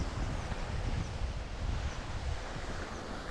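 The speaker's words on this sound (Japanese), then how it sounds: "風、ちょっと今日は定期的に突風が吹くようになってます。" Strong, gusty wind buffets the microphone outdoors, a dense continuous roar with low rumbling surges and no speech.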